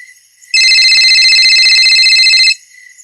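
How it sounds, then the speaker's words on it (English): A phone rings loudly and alone with an electronic, trilling ringtone for about two seconds in a quiet late-night room, then cuts off. "It's a phone call."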